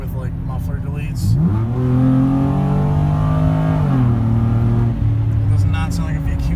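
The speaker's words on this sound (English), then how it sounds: "It sounds like a Grand Prix with like muffler deletes." Infiniti G35 with a VQ V6 engine revving hard, its tone likened to a muffler-deleted Grand Prix: a loud, raspy rev climbs and holds, drops back, then rises again, close by with voices talking over it.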